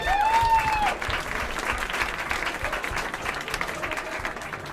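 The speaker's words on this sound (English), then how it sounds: "So please give them a round of applause for Le Pub." Audience applause for Le Pub, the wine supplier at a Theology on Tap talk on wine and philosophy, a dense steady crowd of clapping that holds for several seconds, with a brief whistle-like tone at the start.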